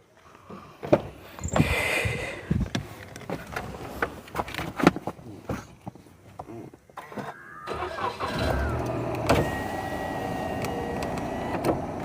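A car engine cranks and catches after a stretch of clicks and handling noises inside the car, then settles into a steady idle hum close by.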